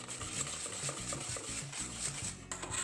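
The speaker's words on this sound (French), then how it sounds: "Enfin, on va rajouter le reste de notre farine. Et on va venir mélanger." Chocolate fondant batter is stirred in a bowl after the last of the flour goes in, a soft rhythmic scraping and sloshing heard close up with no talking.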